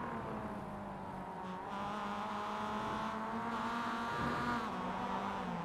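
A race car in the iRacing sim loses control and crashes during a replay: a steady engine drone runs throughout, swelling slightly near the end, with no clear impact standing out.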